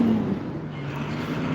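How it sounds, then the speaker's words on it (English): A truck rolls past nearby, giving a steady, loud low engine drone with broadband road noise that holds through the whole moment, alone without talk. "let this truck go by so I can hear myself talk"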